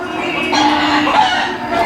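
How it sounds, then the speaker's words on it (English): Chickens clucking in a village mosque yard, a short burst of close, fairly loud overlapping clucks and squawks from fowl with no talk over them. "chickens."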